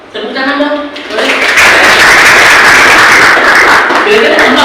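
Applause from a classroom of students swells after a short spoken line and holds as dense, steady clapping for several seconds.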